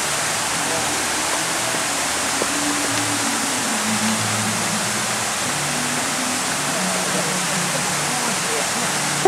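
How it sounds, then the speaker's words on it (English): A waterfall at the Polynesian Cultural Center rushes in a steady, dense roar that stays loud and unbroken throughout, with faint low sounds underneath. "Oh, it's another waterfall."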